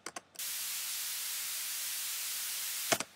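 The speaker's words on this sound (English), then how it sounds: "That's made in Massive, though really any synth has white noise options." White noise from a Massive software synthesizer plays as a steady, flat, full-band hiss for about two and a half seconds, with short soft clicks before and after it.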